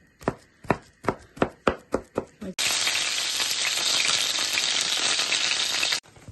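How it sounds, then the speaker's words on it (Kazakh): Seven crisp knife chops of bell pepper and garlic on a cutting board, evenly spaced and close, then a loud steady sizzle as the chopped vegetables hit a hot frying pan. "Мінекей, чесногымызды осылай турап аламыз."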